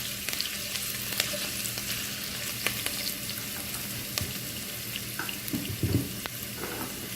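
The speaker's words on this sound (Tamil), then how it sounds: "curry leaf, இது நல்லா ஃப்ரை ஆகணும்." Curry leaves frying in a pan with green chili for chicken curry, an even crackling sizzle throughout, interrupted by a few stirring scrapes and clinks near the end.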